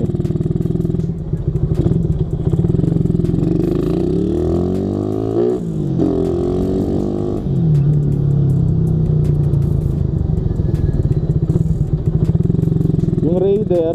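Suzuki Raider motorcycle engine revving up close, a loud rumbling idle that rises and falls through a couple of sharp throttle blips, with someone talking over it now and then.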